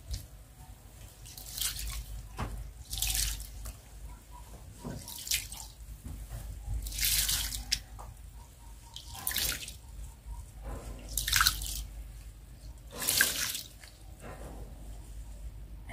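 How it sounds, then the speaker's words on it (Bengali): Rice and lentils being washed by hand in water for khichuri, with repeated squishing, sloshing and dripping in a handful of bursts, close and fairly quiet with no talk. "এই যে ডালটা দিয়ে চালটাকে ভালোভাবে ধুয়ে নেব।"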